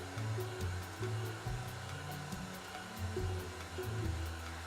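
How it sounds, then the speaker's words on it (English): A hair dryer blows steadily during a brush-back blow-dry of a men's haircut, a continuous close whooshing hum with slight shifts in pitch as it moves and no speech. "Focus the blow dryer at the root area for a few seconds."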